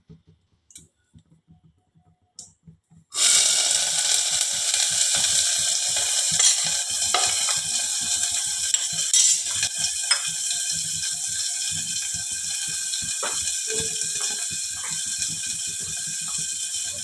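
Chopped onions hit hot oil in a pan and burst into loud, steady sizzling after a few quiet taps, with crackles and occasional stirring scrapes over the continuous frying.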